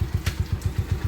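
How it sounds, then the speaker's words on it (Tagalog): A TMX155 motorcycle fitted with a 210cc conversion engine idles steadily nearby, its single-cylinder putter beating in an even, rapid rhythm with a faint metallic clatter. "pakinggan muna natin yung andar ng motor ng Uncle."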